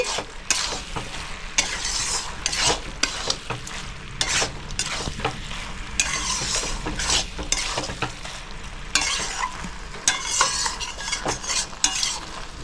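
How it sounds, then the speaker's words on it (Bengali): Potatoes stirred into a fish-head cabbage curry in a pan: a busy close sizzle with repeated scraping and clinking of a spoon against the metal, uneven strokes throughout, no voices. "আলুটা দিয়ে ভালো করে মিক্স করে নিচ্ছি।"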